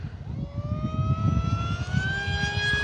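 An FMS Flash 850mm model plane flies overhead, its electric motor giving a steady rising whine with clear tonal harmonics over a constant rumble of wind, continuous and fairly loud throughout.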